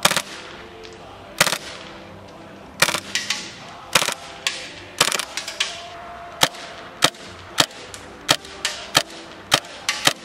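An airsoft M712 pistol fitted with a stock fires repeatedly, sharp close snapping shots in uneven bursts with brief gaps, some shots clustered rapidly together, loud and with no talking.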